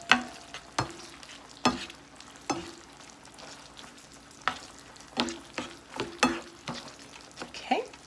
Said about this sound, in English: Let's add our shrimp and the green onions and garlic that we put together.